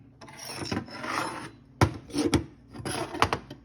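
Rough rasping strokes of a file on a bronze knife guard, in short bursts with brief pauses, close and fairly quiet.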